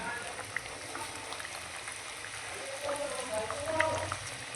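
Hilsa fish curry bubbles in a pot on the stove, a steady, soft simmering hiss with small pops throughout, with a voice talking over it.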